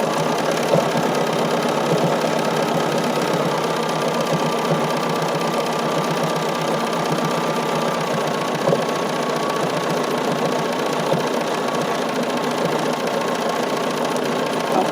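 A sewing machine stitches continuously while quilting an embroidery sampler block, a steady rapid mechanical hum and chatter running close and unbroken throughout with no voices.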